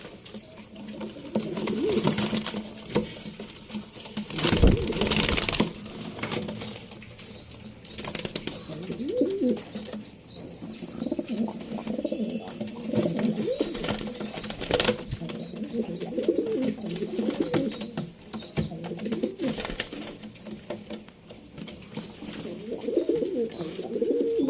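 Pigeons kept for sale in Bangalore coo steadily and repeatedly nearby, with occasional wing flaps and rustling among the birds, sounding close and continuous throughout.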